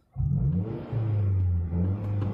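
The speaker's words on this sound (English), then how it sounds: "I'm about to press the gas right now." A Scion tC engine in neutral revs up as the gas pedal is pressed, a loud, close rumbling roar that dips briefly and then holds steady, with no talking.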